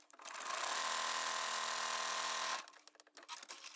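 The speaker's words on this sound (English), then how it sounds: "Sew to the corner, needle down, pivot, keep sewing." Sewing machine stitching quilt fabric in one continuous close, steady whirring burst of about two seconds that stops abruptly, followed by faint clicks and handling noise.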